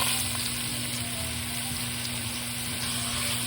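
Diced onions, celery and carrot cooking in a pan, giving a soft, even, continuous sizzle that stays faint and steady throughout.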